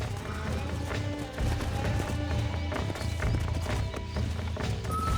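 Horse hooves clip-clopping in a quick, steady rhythm in the Red Dead Redemption video game, with a whinny and snorting over a low rumbling background, close and fairly loud.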